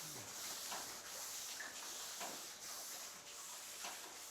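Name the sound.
sanding a wooden trunk with fine real sand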